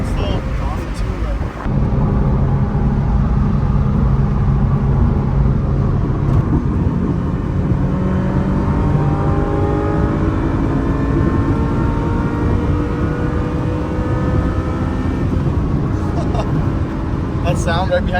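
At a car meet, a car engine revs up in long rising sweeps and drops back as the transmission shifts, heard loud from inside the car over heavy wind rumble.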